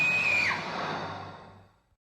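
Willow from Buffy the Vampire Slayer lets out a single shrill, high scream that breaks into a fading, breathy wail. It is played back alone and trails off to silence.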